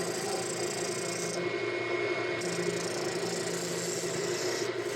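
Wood lathe spinning at raised speed while a wheel gets its final smoothing with regular chisels, a steady close rasping, rubbing hum that runs unbroken throughout.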